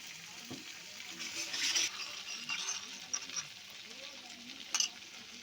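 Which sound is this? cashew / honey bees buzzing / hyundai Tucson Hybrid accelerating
cashew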